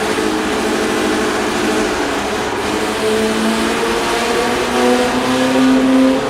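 A built engine runs on a dyno, revving hard and steadily climbing in pitch as the cam comes on toward the end. The loud, continuous roar has no talk over it.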